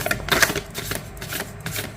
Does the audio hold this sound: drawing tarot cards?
yes